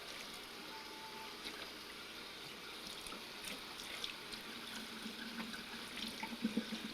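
Water trickling and splashing as it is poured into a bag of mashed beans while making manju, a steady running flow with small sloshing bursts near the end, close and fairly quiet.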